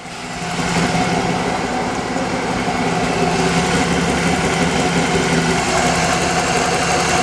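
Nissan 350Z engine idling steadily while warming up after a timing belt job, a close, constant mechanical hum with a light ticking texture running throughout, no talking.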